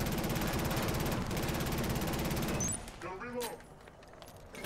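A fast-firing submachine gun in the shooter game Killzone Shadow Fall lets off a dense, continuous burst for about two and a half seconds. It then cuts off abruptly, leaving quieter game ambience and a few faint electronic tones.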